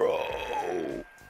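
A long, drawn-out burp in the Modern Warfare Remastered multiplayer match, close and loud, sliding slowly downward in pitch for about a second before cutting off into quiet.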